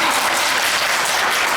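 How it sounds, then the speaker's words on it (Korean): A church audience breaks into dense, loud applause, a continuous wash of many hands clapping at once. "한번 박수 쳐주세요."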